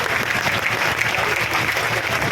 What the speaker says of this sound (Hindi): वे भी हमारी माताओं बहनों के लिए 5 सेकंड के लिए जोरदार ताली सारे बजा दे जाओ एक बार